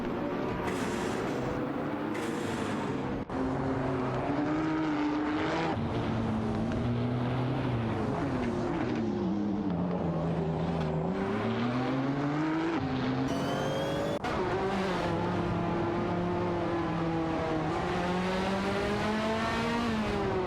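Race car engines from an AI racing video game drone continuously at high revs, their pitch rising and falling as the cars accelerate and brake, loud and steady throughout with no talk.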